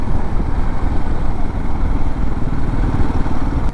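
A Royal Enfield Himalayan motorcycle cruises along a highway on a long ride, its engine drone blended with heavy, rushing wind noise, loud and continuous throughout.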